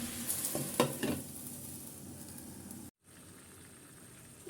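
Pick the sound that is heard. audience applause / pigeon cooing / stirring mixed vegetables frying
stirring mixed vegetables frying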